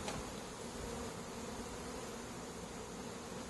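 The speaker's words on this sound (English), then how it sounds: "There'll be some bees on it" Honey bees buzz around a hive box being worked in July, a soft, continuous hum of many insects close by, steady and fairly quiet with no voices.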